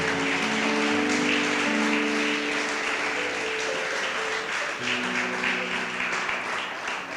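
A church congregation at a Sunday evening service claps steadily and loudly, with sustained organ or keyboard tones running beneath the applause.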